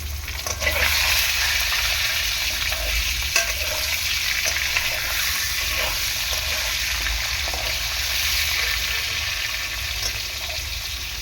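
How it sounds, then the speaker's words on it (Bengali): Potatoes fry in a pan at home, giving a steady, loud sizzle across the whole stretch, with a few stirring scrapes and clicks and no voices. "আলুটাকে একটু ভালো করে ভেজে নেবো"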